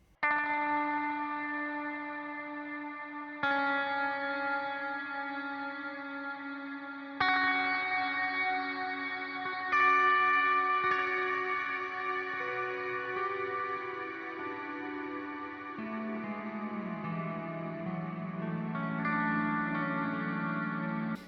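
Sustained instrument notes pass through a Chase Bliss Mood Mk2 pedal, smeared into washy stereo delays and reverb, with chords shifting every few seconds and lingering, echoing tails.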